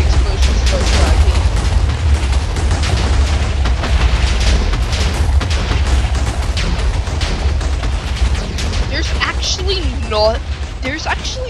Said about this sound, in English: It's just the giant cube of TNT exploding.